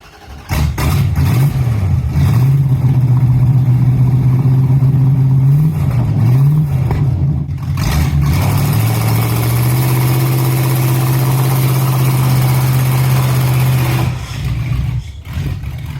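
A 1977 Dodge D100 pickup with a 318 small-block V8 swapped in idles steadily and loudly nearby, with a couple of brief revs early on before settling into a constant low rumble that drops slightly near the end.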